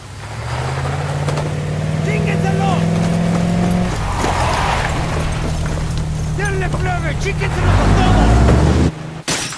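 A truck drives in the video game Ghost Recon Wildlands, its engine droning steadily while voices talk over it, and the engine swells louder near the end before cutting off abruptly.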